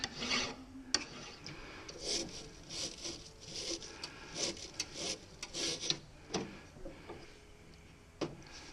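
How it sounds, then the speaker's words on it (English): Hand file rasping a radius on a metal part from a Jeep Grand Cherokee WJ CV joint, with repeated close strokes in an uneven rhythm and short pauses between them. "this is the correct way to file a radius"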